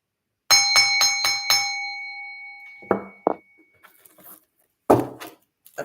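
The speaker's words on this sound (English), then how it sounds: "I'm gonna hit that bell and we're gonna move the energy over." A small metal bell is struck four times in quick succession, ringing clearly with a long, shimmering decay. Faint knocks and handling noises follow, and then a brief breathy sound near the end.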